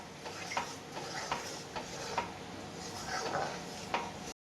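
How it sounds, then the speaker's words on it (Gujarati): Jaggery is stirred in a pan to melt it for sukhdi, giving a steady scraping rumble with recurring soft clinks and taps of the spoon against the pan, moderately close and without talk. "આવી રીતના હલાવતું જવાનું. ગોળ જ્યાં સુધી મેલ્ટ ના થાય ત્યાં સુધી."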